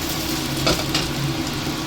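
Steady, loud sizzling of beef meatballs coated in cornstarch frying in oil in a pan, a constant crackling hiss with no talking.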